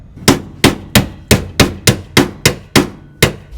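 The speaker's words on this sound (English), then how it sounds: "And then, trusty old press hammer." Hammer strikes on a car suspension bushing during a 350Z differential swap on an S14, ten sharp metallic blows in a steady rhythm, close and loud with no talking.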